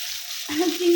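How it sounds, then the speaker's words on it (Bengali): Peeled prawns fry in a pan with a steady hiss of hot oil that swells slightly partway through this short, close, voiceless moment. "সমস্ত চিংড়িগুলো পেয়েছে ছাড়িয়ে ছাড়িয়ে নিয়ে সুন্দর করে ভেজে তুলে নেব।"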